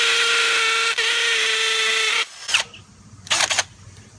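A hammer drill runs loudly into concrete, its hammer mechanism beating at 32,000 blows per minute as a dense rattling whine, then cuts off, followed by a couple of brief quieter bursts.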